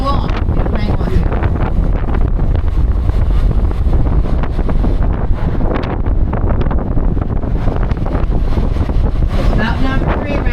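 Strong wind buffets the open top of a hop-on hop-off tour bus along a curve of the river in New Orleans, a loud continuous roar and rumble against the microphone with a guide talking through it.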